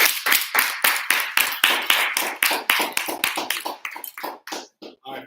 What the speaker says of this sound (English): I definitely want to give both of them another round of applause